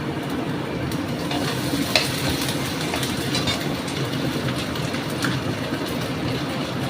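Onions sautéing with a spoonful of ginger-garlic paste in a pan, a dense steady sizzle with a low rumbling texture and a few faint stirring clicks, close and continuous, with no talking.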